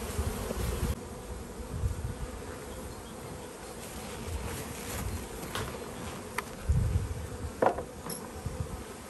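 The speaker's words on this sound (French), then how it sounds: "Allez, on va ouvrir la ruche et on va regarder ça de près." Honeybees buzz around an opened beehive in spring, a soft continuous hum from many insects with a few louder passes of single bees near the microphone and faint handling knocks.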